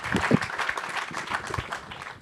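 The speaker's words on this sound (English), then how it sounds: "let's give our panelists and moderators a round of applause" Audience applause for conference panelists and moderators after a discussion session, a scattered round of clapping from a modest crowd with a few sharper nearby claps at first, then thinning.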